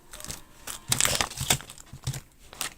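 Plastic wrapping rustles and crinkles up close in a few irregular bursts, with short quiet gaps between them.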